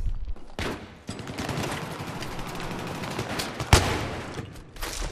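Sustained gunfire in Battlefield 3: dense, continuous rapid shots roaring through the whole stretch, with one sharper crack standing out near the end.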